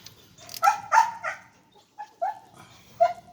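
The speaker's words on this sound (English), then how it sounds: "I got a dog in the background too. He's chained up over here, just barking with me" A dog chained up outdoors barks in a few sharp, irregular bursts with short yips between, fairly close and clear against a quiet background.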